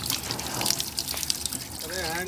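Water running from a drinking-water tap in Ambedkar Park, Lucknow, a steady close splashing stream with someone talking over it.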